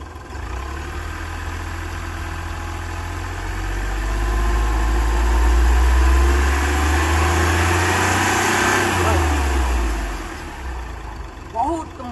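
A Hyundai Xcent diesel engine with a low-pickup fault rumbles nearby, swelling slowly into a gentle rev and easing back down, with people talking over it.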